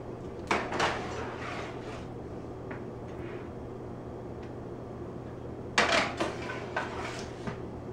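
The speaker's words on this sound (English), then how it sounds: "I take my pumpkin and I put it in my oven." A pumpkin being put into a heated oven, heard as a few faint clunks of pan and rack against metal at two moments, separated by quiet room hum.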